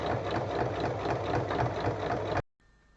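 A sewing machine runs steadily, stitching two fabric pieces for a small everyday pouch, a close, even mechanical whir that stops abruptly near the end, leaving near silence.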